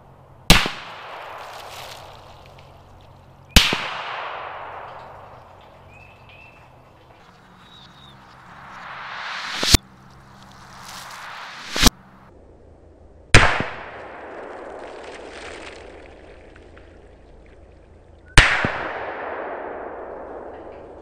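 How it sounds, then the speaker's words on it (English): Loud single shots from an FN SCAR 17 rifle fired indoors in a small space, six sharp cracks spaced irregularly, each followed by a long booming echo that decays slowly between shots. "you can't shoot a scar for too long in a little place like that"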